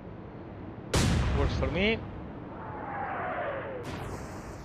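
Destroyer Z31 fires its naval guns in the World War II naval strategy game Atlantic Fleet: a single loud, sharp boom that rolls off into a decaying rumble, followed by a fainter whistle and a short spoken phrase.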